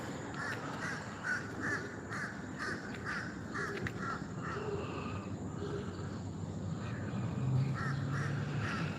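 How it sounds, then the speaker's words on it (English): Outdoors in the morning, a vocal crow gives a string of rasping caws in irregular bursts, fairly distant, over a steady low background hum. "Boy, that crow there's very vocal this morning."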